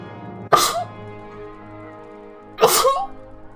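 Two sharp, close sneezes from a person, spaced about two seconds apart, each a sudden explosive burst over a faint game soundtrack hum.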